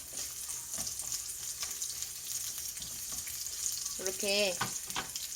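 Anchovies stir-fry in oil over low heat for Korean myeolchi-bokkeum, giving a steady soft sizzle with light scraping stirs throughout, while a voice speaks briefly near the end.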